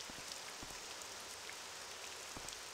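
Steady rain falling in the video game Morrowind, a soft, even hiss of drops with a few sharper taps scattered through it, distant and alone.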